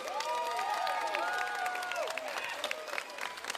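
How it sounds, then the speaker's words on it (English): Loud crowd applause and cheering at a Pacific arts festival entertainment stage, dense clapping with whoops and shouted voices layered on top, sustained throughout and easing slightly toward the end. "Big hit, loud round of applause"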